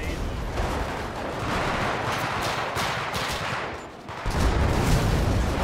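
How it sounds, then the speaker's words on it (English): A pipe bomb goes off in GTA 5 amid a dense, roaring wash of gunfire and blast noise, with a brief dip before a loud, broadband burst near the end. "a pipe bomb down there"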